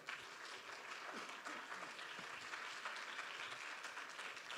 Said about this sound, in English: Maria Fulquier Garcia, round of applause for her